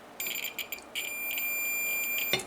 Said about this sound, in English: hear the beeping